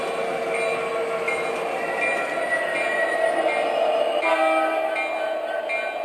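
A model train locomotive controlled by an MTH DCS Commander plays continuous steady rail rumble and a sustained horn-like whistle tone, close and even in level throughout.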